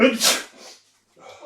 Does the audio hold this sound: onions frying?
no